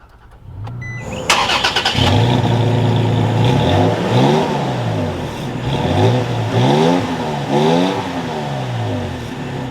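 A 2023 Toyota Tacoma TRD Sport cranks and catches, its engine settling into a steady idle, then rising and falling through several close, loud revs with no talking.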